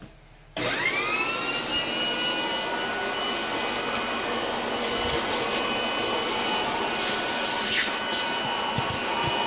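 A vacuum cleaner cleaning engine parts during a 1955 Pontiac teardown switches on after a brief quiet moment and runs loud and steady, with a constant whine and roar throughout.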